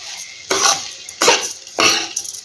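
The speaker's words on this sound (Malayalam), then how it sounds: "അരിയിട്ടു ഇതിങ്ങനെ ഒന്ന് ഇളക്കി യോജിപ്പിക്കാം" Rice for fried chicken biryani is stirred into a pot in three distinct scraping sweeps, each a loud, close rasp of spoon against metal with quiet gaps between.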